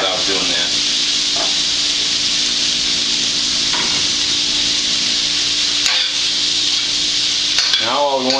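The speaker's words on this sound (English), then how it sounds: "Now all we want to do is just fry this up a little bit, get it a little crispy." Sausage fries in a metal pan greased with a little fat, a steady broadband sizzle holding for the whole stretch with a few faint clinks and a brief voice near the end.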